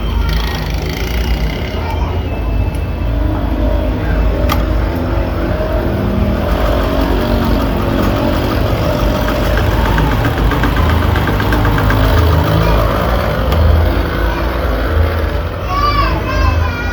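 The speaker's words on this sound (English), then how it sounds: "So I'll sew the side now." A sewing machine stitches the side seam of a long fishtail gown, its motor a steady, continuous mechanical whir throughout, with muffled voices in the background.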